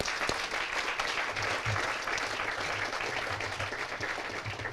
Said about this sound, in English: You could join me in applause.